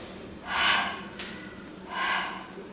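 Two heavy, forceful breaths, a long exhale then another about a second and a half later, come from someone close by during a Pilates single leg stretch core exercise, with quiet room noise between them.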